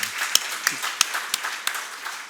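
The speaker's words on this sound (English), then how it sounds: "A big applause for Poultry India." Scattered applause from a seminar audience at a Poultry India event, a handful of distinct claps spaced out and fairly close, with no talking over them.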